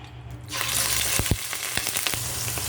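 Pork pieces frying in oil in a wok-style pan, a loud dense sizzle rising suddenly and holding steady, broken by a few sharp crackles and pops, close and without talk.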